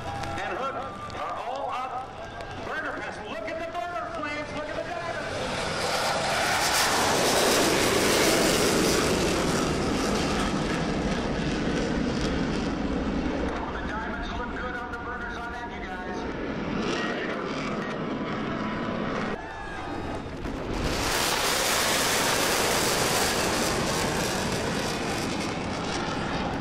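An F/A-18F Super Hornet jet at an airshow at NAS Oceana makes a touch-and-go, its engines swelling into a loud, sustained roar that fades and then surges again near the end, with a commentator talking over it.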